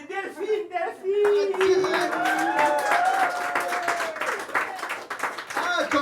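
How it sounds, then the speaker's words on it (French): A crowd at a slam poetry tournament in Antibes claps thickly and continuously, with cheers and voices rising over the applause partway through. "Je vous demandez d'applaudir très très fort"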